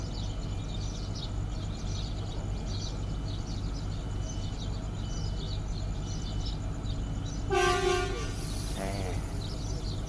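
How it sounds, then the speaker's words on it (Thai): Whistle of the TT.2 track inspection rail car, a single-cab railcar at a Thai station: a loud, near toot with stacked tones lasting about a second, rising over steady engine rumble and a busy background. "เสียงวีด"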